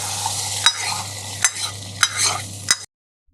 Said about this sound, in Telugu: బాగా తాలింపు అంతా కలిసేలాగా తిప్పుకోవడమేనండి.